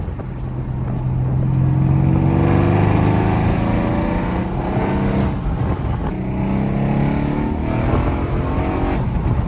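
Mercedes C63 AMG V8 exhaust, fitted with an H-pipe or straight pipe setup, rumbling loudly nearby as the engine is revved and loaded up in repeated rising pulls.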